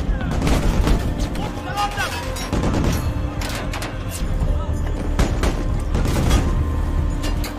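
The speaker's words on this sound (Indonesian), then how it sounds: "baku tembak pun kembali terjadi" Gunfire exchange in a war film: dense, continuous volleys of shots and booms over a rumbling battle din, loud throughout, mixed with indistinct shouting voices.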